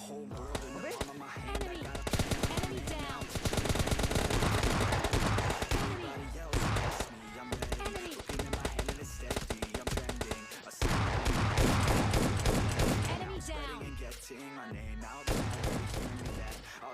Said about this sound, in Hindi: तभी हमको यहाँ से कुछ गन की साउंड आती